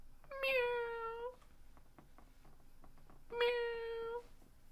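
A cat meows twice in clear, drawn-out calls about two seconds apart, each loud and tonal against a quiet background.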